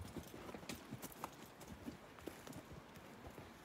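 Horses walking on a woodland trail during a mule deer scouting trip, steady close clip-clop of hooves on dirt and brush, quiet and even, with no talking.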